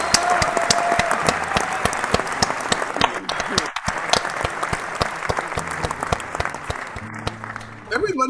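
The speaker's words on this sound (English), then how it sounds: "Everybody should have one of those applause buttons." Canned applause from a button sound effect, a steady dense wash of clapping and crowd noise running throughout at moderate level with a brief dip partway.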